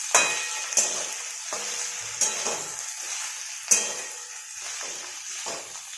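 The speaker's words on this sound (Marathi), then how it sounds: "मीडियम गॅसवरती जरा भेंडी वाफलू देण्यासाठी ठेवलेली आहे" Okra frying and steaming in a pan on a medium gas flame, a steady close sizzle broken by a few sharp clinks and stirring scrapes, with no talk.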